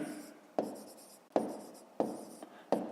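Numbers handwritten on paper for a fifth-grade maths exercise, four sharp pen-tap strokes each trailing into a short scratchy scribble, close and fairly quiet, evenly spaced.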